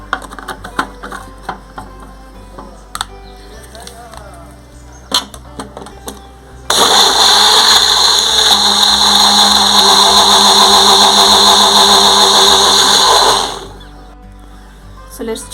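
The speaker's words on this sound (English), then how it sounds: "Now I will use the blender for making mango juice." A Wonderchef Nutri Blend 400 W blender runs on mango pulp, ice, sugar and cold water with a loud, steady high-pitched whir lasting about six seconds. Before it starts there are small handling clicks and taps, and the motor winds down at the end.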